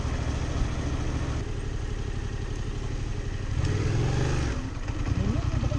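A motorcycle engine during a riding lesson runs steadily near the microphone, a low idling rumble with slight rises in revs and some mechanical clatter, while people talk over it.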